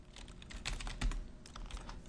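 Soft, rapid keystrokes on a computer keyboard, a short muffled burst of typing heard close, with no talking.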